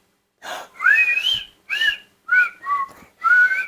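A person whistles a short melodic phrase up close, several rising and falling notes in quick bursts with brief gaps, no talking.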